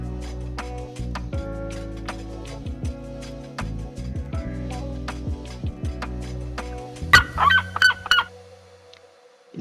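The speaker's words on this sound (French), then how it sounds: "Notamment des Cariama huppés que nous venons d'entendre." Red-legged seriemas calling at a zoo aviary, loud honking cries repeated in a rhythmic series over a backdrop of sustained music, then a brief cluster of sharper calls near the end.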